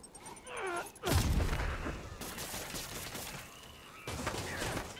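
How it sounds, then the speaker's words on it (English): Missiles hiss and explosions burst in bursts of loud, rushing noise during combat in a Spider-Man video game, with sharp crackling impacts following one another. "the missiles sound like fucking fire extinguishers"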